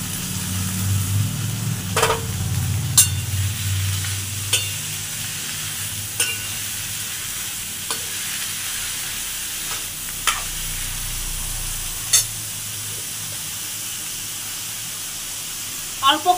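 Chopped vegetables fry in a karahi over low-medium gas, with a steady broad sizzle and a low rumble throughout, punctuated by occasional sharp clinks of a utensil against the pan.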